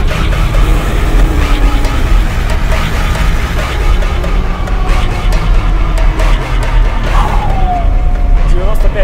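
A Bentley Ultratank on tracks drives through deep snow with a loud, grinding, whining drivetrain roar and clattering track noise, while people talk over the din.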